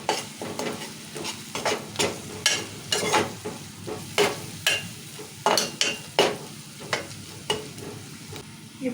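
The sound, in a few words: stirring ginger garlic paste and turmeric in a pan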